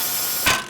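A single quick ratchet click burst rings out up close as a wrench works an 18 mm rusty pinch bolt on a BMW E46 325i Touring, a short sharp mechanical snap against a quiet hum.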